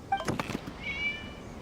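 A cat in the Genshin Impact game lets out a short meow, a brief tonal cry that fades quickly and stands alone in a quiet scene.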